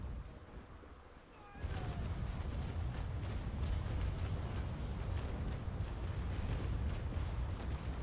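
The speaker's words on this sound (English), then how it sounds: "Come on, bring these cannons to bear." Cannon fire from a warship broadside in the Naval Action naval battle game: a sudden loud blast opens a sustained roar of rumbling gunfire that continues to the end, with no speech.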